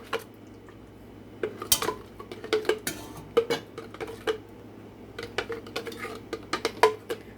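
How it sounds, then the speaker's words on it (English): Thick pureed sorrel being scraped and spooned from a container back into a metal pot, with a steady run of sharp clinks and knocks of utensil against pot, close and moderately loud, no talking. "I finished pureeing it, and it's gonna go back in the pot."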